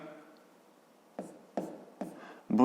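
A pen or pencil scratches out a handwritten maths answer in three or four short, distinct strokes at a close distance, with a voice starting at the end.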